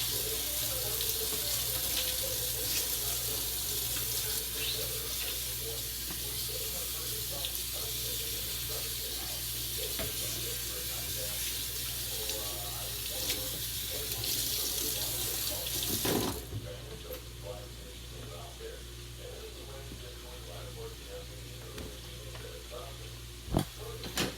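Kitchen tap water running steadily into a sink while hands are washed after handling raw meat, a continuous close rushing stream with small splashing changes, which drops noticeably in level near the end.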